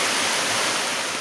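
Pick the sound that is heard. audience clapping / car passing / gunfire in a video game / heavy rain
heavy rain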